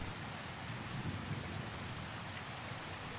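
Steady rainfall hisses evenly across the whole stretch, a dense wash of drops on surfaces with a faint low rumble underneath, calm and unbroken, with no voices.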